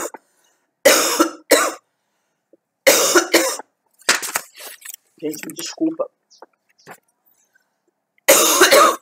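A person coughs in several harsh, separate bursts, close and fairly loud, with a short apologetic remark in between.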